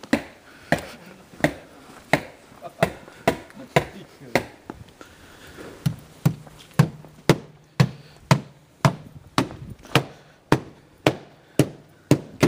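A worker fitting stonework onto the lower wall of a house under construction makes sharp, evenly spaced knocks and taps, a dozen or more close by, with brief pauses between them.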